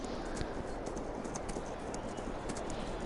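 Steady clip-clop of horse hooves trotting at a regular pace in the video game Farming Simulator 22, fairly close, with faint bird calls in the background and no talking.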